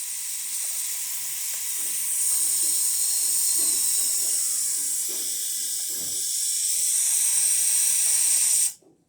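A Breville Oracle Touch espresso machine's steam wand blows a steady, loud hiss of steam for about eight and a half seconds, swelling slightly midway, then cuts off abruptly.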